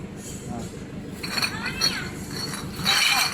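Cans and glass bottles clinking at a junk shop, bright metallic and glassy clinks in a few clustered bursts over a low background murmur of voices.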